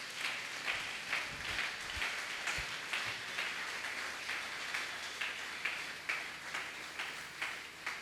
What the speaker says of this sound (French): Acclame pour la parole.